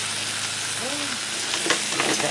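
Soaked dehydrated hash browns fry on a Blackstone griddle, giving a steady close sizzle that runs through the whole stretch, with a few light scraping clicks near the end.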